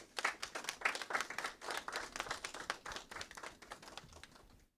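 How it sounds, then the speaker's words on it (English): A small crowd at a football club anniversary media launch gives a round of applause, a scattered burst of hand clapping that is fairly faint and thins out gradually over a few seconds. "I really want to give them a round of applause."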